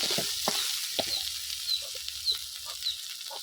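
Chili powder sizzling in a frying pan for fish curry, a bright continuous hiss with occasional spatula scrapes and light taps, close by, with no voice.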